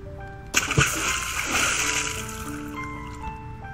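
A splash into water in a video game lands sharply, followed by a few seconds of sloshing and lapping water with tonal game music continuing underneath.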